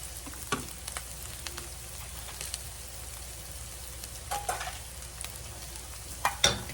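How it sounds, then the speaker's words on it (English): Green beans added to a hot pan with onions sizzle and fry in a steady crackling hiss, with a few louder clinks and stirring scrapes of a utensil near the start and end, and no talking. "We're fixing to put these green beans in here."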